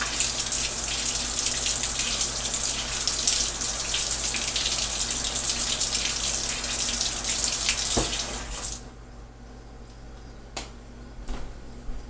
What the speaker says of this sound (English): Cold water. Cold water.